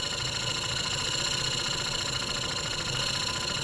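A German showman's steam traction engine runs steadily with its throttle opened a little, giving a continuous close mechanical churn and low rhythmic chuffing at even loudness throughout, with no voices.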